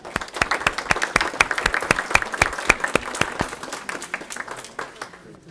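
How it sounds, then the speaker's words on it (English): Workshop participants give themselves a round of applause: crisp, distinct hand claps in a brisk rhythm, nearby and fairly loud, thinning out toward the end. "I would like to give you, like to have you give yourselves a round of applause."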